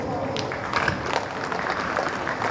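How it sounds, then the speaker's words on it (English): Crowd applause for an athlete at a Jamaican track meet, a steady rush of clapping from a large audience, moderately loud and sustained, with a stadium announcer's voice talking over it. "you can give her a round of applause."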